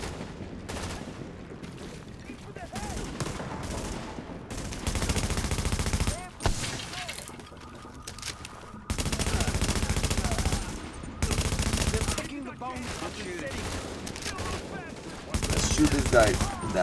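Automatic gunfire in the video game The Division, loud sustained bursts of rapid shots alternating with short pauses, with someone talking quietly in the gaps between volleys.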